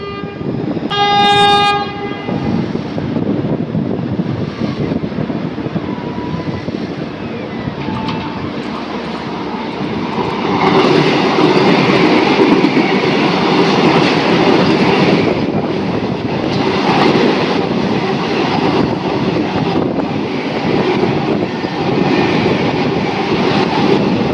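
A Puri-to-Howrah Vande Bharat express sounds a brief horn, then thunders through a station with a loud, continuous rush and rumble of passing coaches, swelling midway and holding steady.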